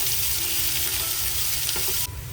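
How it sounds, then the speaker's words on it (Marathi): Chopped onion sautéing in oil gives a steady, loud, crackling sizzle that continues without pause, close by, with no talking. "बारीक चिरलेला कांदा टाकून घेऊया. सुद्धा छान असे परतून घेऊ"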